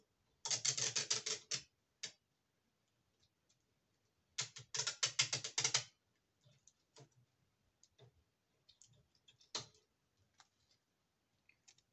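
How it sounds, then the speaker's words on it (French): Adhesive tape is torn and pressed onto a scrapbook page in two loud ripping bursts, each about a second long, followed by a few short quiet crackles and taps in an otherwise silent room. "Je vais mettre un coup de scotch."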